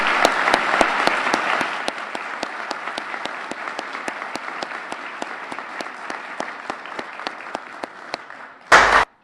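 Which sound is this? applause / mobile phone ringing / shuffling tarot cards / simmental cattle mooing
applause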